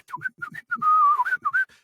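A person whistles a quick run of short chirpy notes, then a longer wavering tone and a few more chirps, imitating birdsong, close and clear.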